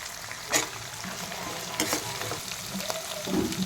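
Ginger, garlic, green chilli and curry leaves frying for a tomato curry, a continuous close crackling sizzle with scattered pops and a few sharp spatters, no voices.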